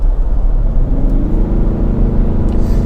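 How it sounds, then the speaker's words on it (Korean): A Kia Mohave SUV engine accelerates as the gas pedal is pressed, heard from inside the cabin as a loud, deep, steady rumble with a rising engine drone. No one talks. "앞에 좀 차가 없을 때 한번 가속 페달 한번 밟아볼게요"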